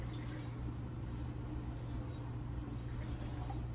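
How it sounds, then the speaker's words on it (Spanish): Water is poured steadily into a cooking pot for chicken birria, a continuous close splashing and trickling under a constant background hum. "Yo le voy a echar agua,"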